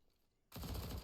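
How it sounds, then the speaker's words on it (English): A burst of rapid gunfire from an MP9 erupts suddenly during a competitive Counter-Strike match on the Ancient map. It is loud and brief, following a moment of quiet. "This MP9 could also hurt Smarter too, as it looks right around the corner"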